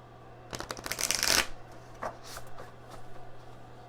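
Tarot cards being shuffled close up, with a dense burst of rapid riffling flutter, then a few shorter softer shuffles and shuffles against a faint steady hum.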